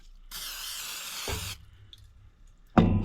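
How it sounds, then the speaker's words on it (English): A steady hissing spray of olive oil onto a pork loin runs for about a second, then stops; after a quiet pause a clatter of handling noise follows nearby. "We're going to start spraying some olive oil on it."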